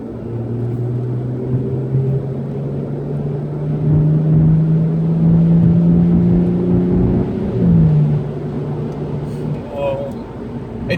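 A 2011 BMW 335i xDrive accelerating on a highway, a low engine drone rising steadily in pitch with road and wind rumble inside the cabin, then a gear change and settling.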